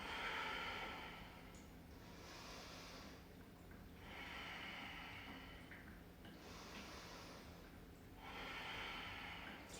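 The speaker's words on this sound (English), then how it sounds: "Breathe out." Slow, airy yoga breaths through the nose, several long exhales rising and falling in a steady rhythm, close and soft with no talking.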